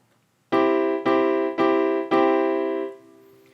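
Four sustained piano chords played on a mini MIDI keyboard (Launchkey MK4), struck one after another at a steady pace, each ringing until the next, with the last one fading out.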